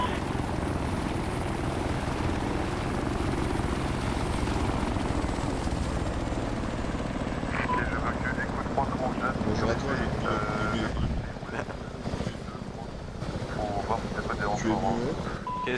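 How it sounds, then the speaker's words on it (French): A military helicopter in the ARMA III video game roars steadily with a dense rotor and engine drone throughout, while voices talk over it in the middle and later stretches. "C'est un hélico magique, Matt."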